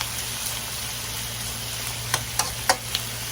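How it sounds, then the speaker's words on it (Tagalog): Potatoes frying in a pan while making chicken afritada: a steady low, quiet sizzle with a few sharp spits and pops near the end, no voices. "So, hintayin po natin ma-fried sila."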